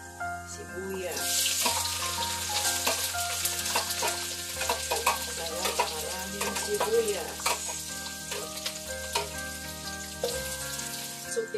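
Chopped onions sizzle and crackle loudly in a hot pan with oil, stirred now and then, a dense continuous frying hiss close by with no talk.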